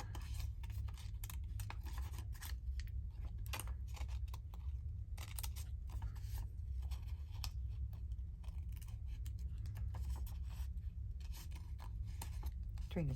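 Scissors snip and rasp through paper in repeated quiet cuts, close by, with a steady low background hum throughout.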